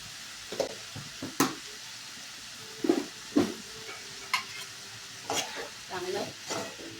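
Chopped onions and tomatoes with salt cooking in a pan, stirred with a spoon in short scraping bursts over a faint, steady sizzle, fairly close and without talk.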